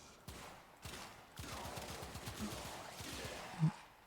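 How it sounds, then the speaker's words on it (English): Knell Prime gunfire in the Warframe video game, heard as bursts of rapid, fairly faint shots with quick rhythmic repeats and a sharper impact near the end, with no voices. "So get enemies by shooting them in the head."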